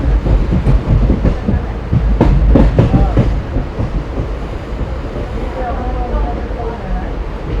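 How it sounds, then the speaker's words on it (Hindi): Passenger train running on the Northern Railway main line between Shahjahanpur and Sitapur, a steady close rumble with wheel clatter and a burst of louder knocks early on, under passing talk. "ट्रेन मेन लाइन पर जा रही है फिर से"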